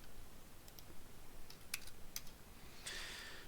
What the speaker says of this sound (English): So I'm just typing in just regular 90.